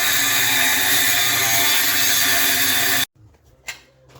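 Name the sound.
cutting off stock for a kindling splitter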